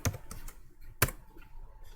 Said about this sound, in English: So here I am typing my name,